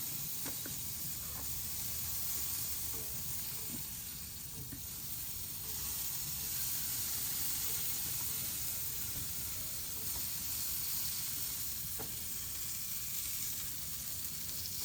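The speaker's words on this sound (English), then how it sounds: "that sizzle." Chicken leg quarters sizzle on a smoker fired with apple and pecan wood, making a steady, continuous hiss and crackle that stays fairly faint and close throughout.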